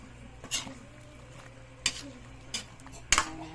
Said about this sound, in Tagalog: haluin natin para nahalo yung matunaw yung asin